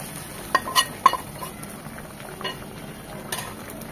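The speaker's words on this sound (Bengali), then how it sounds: "এই যা বাগারটা লাউয়ের মধ্যে দিয়ে দিচ্ছি।" Fried tempering (bagar) is tipped into a pot of bottle gourd and shrimp curry, with a few sharp metallic clinks of utensil against pot over a faint, steady background hiss.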